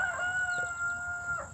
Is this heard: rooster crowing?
yes